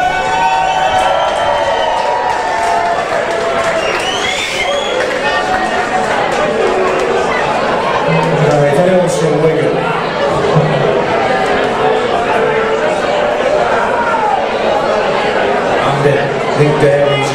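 Audience at a live music session at Band on the Wall, a dense steady roar of cheering, chatter and clapping filling the room, with voices calling out near and far.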